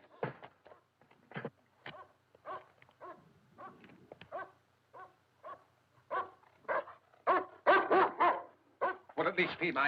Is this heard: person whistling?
no